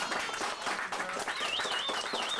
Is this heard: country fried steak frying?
no